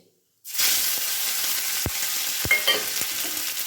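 Tomato, green chili and ginger paste hit hot oil with cumin, erupting into a loud, steady sizzle after a brief silence, with a few sharp clinks of a spoon stirring through the frying.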